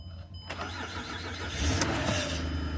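A repossessed car's engine cranks and catches after a jump-starter boost, then runs at a steady, loud idle close by with no talk over it.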